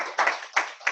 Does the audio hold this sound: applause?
yes